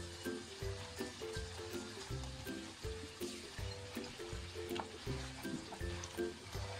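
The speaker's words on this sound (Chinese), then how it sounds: "热锅放入多一些的植物油，油温6成热的时候下入鸡丁" Chicken cubes dropped into plenty of hot vegetable oil over medium heat, giving a steady sizzle and bubbling with soft stirring and scraping clatter, under a rhythmic pulsing tone that runs through the whole stretch.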